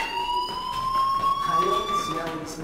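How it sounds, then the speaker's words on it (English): Fire alarm ringing inside the video game Life Is Strange: a steady, slightly rising electronic tone that sounds loud and continuous throughout, with muffled voices faintly beneath it. "Hey, do you hear that fire alarm? That means you should be outside."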